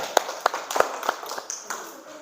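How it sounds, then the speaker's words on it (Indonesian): Classroom of students clapping for a classmate, a few sharp separate claps followed by scattered lighter patter, fairly close, with a teacher's voice over it. "tepuk tangan dulu untuk Kim"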